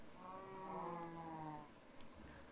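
A Minecraft sheep gives a drawn-out, wavering bleat that is fairly quiet over a steady background hum, with no talking.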